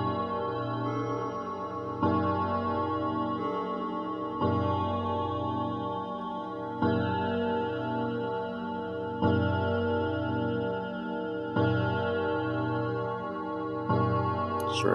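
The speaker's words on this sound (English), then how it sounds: "This is actually the amplifier that's out amplifying the clock noise." Amplified ticking of a colonial grandfather clock, a steady, even tick-tock repeating evenly throughout with a louder accent about every two seconds, close and dry with no talking.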